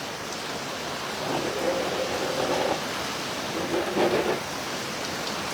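Heavy rain pours steadily outdoors, a dense even hiss throughout, with a few brief tonal voice-like murmurs faintly in the background.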